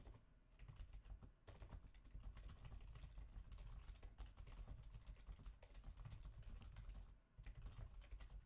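Quiet, rapid clicking of fingers typing on a computer keyboard, the keystrokes running almost continuously with one brief pause, faint and close against low background hum.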